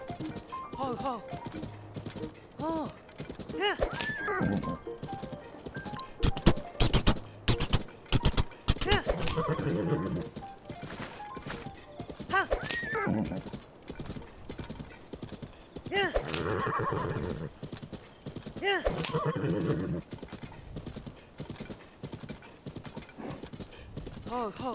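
A horse in Zelda: Tears of the Kingdom clip-clops with rhythmic hoofbeats and lets out several whinnies, loud and close, while a person talks over it.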